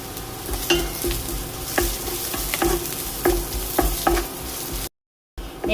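Onions with a little salt sautéing in oil in a pan for a pumpkin dish, a steady close sizzle broken by repeated scraping stirs, with a brief dropout near the end.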